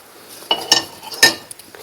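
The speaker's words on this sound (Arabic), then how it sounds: "غادي نرمي هاد البطاطا، غادي نرمي بطيطه هي الاولى" Potato pieces dropped one by one into a pot of hot oil, giving a few sharp splashes and brief sizzling bursts with faint clinks, close by and otherwise quiet.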